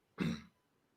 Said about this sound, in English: No, that was my clearing my throat.